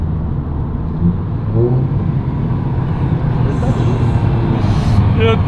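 A Mercedes A200 with a new aftermarket exhaust revs and pulls under load while being driven, its engine rumble steady and close from inside the car.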